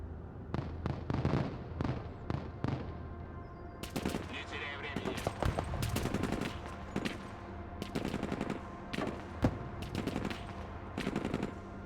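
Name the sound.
units firing guns in Broken Arrow video game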